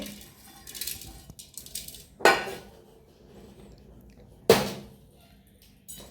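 Chopped green chillies, ginger and onion tip into a pan for a Mangalorean-style mackerel curry, making two sharp clattering thuds against the metal amid faint kitchen rustling, close by.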